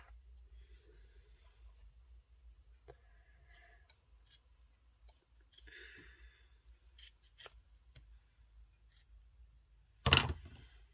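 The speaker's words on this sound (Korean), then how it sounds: "천 자르는 가위 소리가?" Sharp snipping of fabric scissors cutting cloth while sewing a party dress, a few scattered crisp cuts in a quiet room ending with a louder close snip, no voices.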